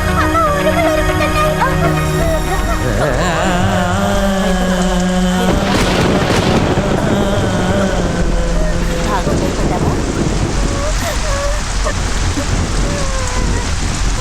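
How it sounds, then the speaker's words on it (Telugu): Heavy rain pours steadily and loud throughout, with rumbling thunder swelling in the middle and music or tonal sounds layered over the start. "పెద్ద వర్షం వస్తుంది, వానలోకి వెళ్ళకు అని చెప్పాను."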